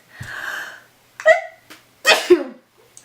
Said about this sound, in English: I totally just sneezed.